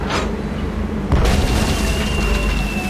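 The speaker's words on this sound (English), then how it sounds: "it's one of those spiffy new Hungarian easy-action cannons I've been begging Elaine to let me buy" A single deep boom as a Hungarian easy-action cannon fires a cannonball in the Monkey Island adventure game, followed by a sustained rumbling roar that rings on without talk.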